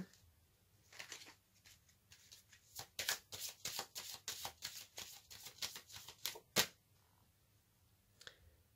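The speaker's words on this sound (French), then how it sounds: "maintenant, je vais tirer une carte de l'oracle aromatique" Oracle cards are shuffled by hand, a rapid series of crisp papery riffles and flicks close up and quiet, ending with a couple of soft taps as a card is drawn.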